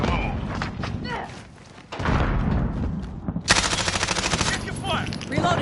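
Bursts of automatic gunfire in a military shooter video game: rapid, loud cracking shots in a sustained volley, with thuds and battlefield noise around them and voices in the mix.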